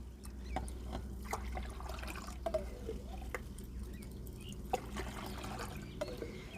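Epsom salt is stirred into water in a container, producing soft close sloshing, trickling and small drips, quiet and continuous with a low hum behind it.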